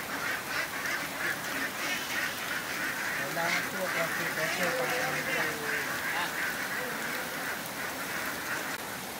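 Layer ducks quacking as they are herded into their pen on a duck farm, a scattered chorus of calls over a steady rain-like hiss, with some faint voices in the background.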